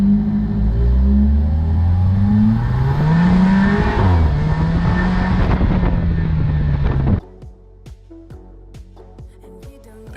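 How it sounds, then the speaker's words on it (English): Alfa Romeo 4C Spider, a 2018 model with a 4-cylinder engine, accelerating hard with rising revs through gear changes amid wind rush, then cutting abruptly to a quiet background with faint ticking. "Definitely the best 4-cylinder noise I've heard"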